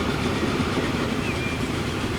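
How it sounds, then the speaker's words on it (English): A freight train in the video game Transport Fever 2 rolls past with a continuous rumble and clickety-clack of wagons on the rails. The sound is steady and fairly loud throughout the short stretch, with no voices. "These guys finally get to see a freight train in operation"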